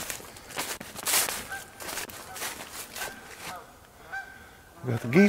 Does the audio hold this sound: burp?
no